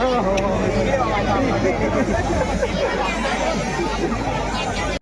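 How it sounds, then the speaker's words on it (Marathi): Dense crowd chatter at a crowded Twinkle Star group meetup: many overlapping voices form a steady, close hubbub with no single voice standing out, continuing evenly throughout. "आज इथे खूपच गर्दी आहे."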